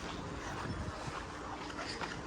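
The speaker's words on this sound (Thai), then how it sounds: "ลมแรง" Strong wind buffets the microphone outdoors, making a constant low rumbling roar with small gusty bumps throughout the short stretch.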